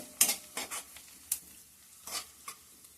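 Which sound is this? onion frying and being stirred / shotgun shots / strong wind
onion frying and being stirred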